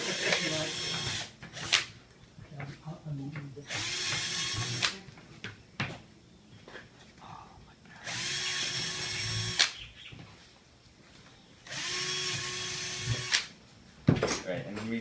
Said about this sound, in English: And then drill out some holes through the bucket.